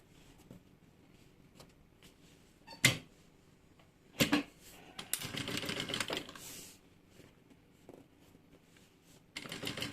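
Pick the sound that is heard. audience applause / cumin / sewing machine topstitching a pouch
sewing machine topstitching a pouch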